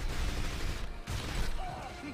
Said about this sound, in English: You literally ran right in front of the gunfire then, right?